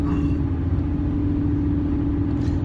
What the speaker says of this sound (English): Driving 70 miles an hour to